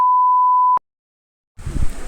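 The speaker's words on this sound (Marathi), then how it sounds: "ही सगळ्यात अशी मोठी व्हिडिओ असते जी सगळी बीप मध्ये जाणार आहे" A censor beep plays as a single steady pure electronic tone for under a second, then cuts to silence before muffled background noise starts.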